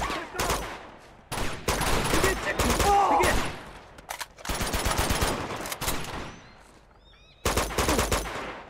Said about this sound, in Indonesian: gue tembak lu ya